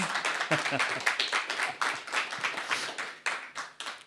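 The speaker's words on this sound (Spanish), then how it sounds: "Un aplauso, por favor." An audience applauds at a talk, with irregular clapping from a modest crowd swelling and ebbing in bursts.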